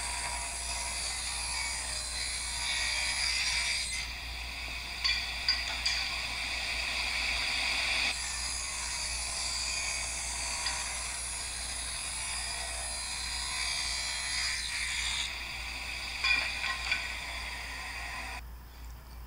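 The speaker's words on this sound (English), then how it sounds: "The next step is to just rip them in exactly in half, which leaves 2 3/4 inch pieces." Clear pine boards are ripped in half on a power saw for a bee hive inner cover, giving a fairly quiet, continuous high whine with steady cutting noise that shifts in level over the length of the cut.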